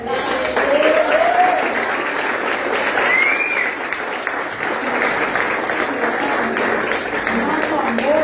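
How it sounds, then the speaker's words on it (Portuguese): A church congregation at an anniversary service in Campinas applauds steadily for about eight seconds, a dense, even wash of clapping with a few whoops and cheers rising over it. "Uma salva de palmas."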